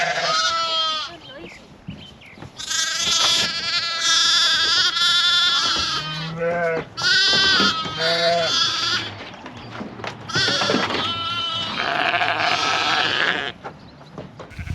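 A flock of sheep bleats loudly and almost continuously in a lambing pen during lambing season, several overlapping calls close by with bursts from different animals and barn clatter underneath.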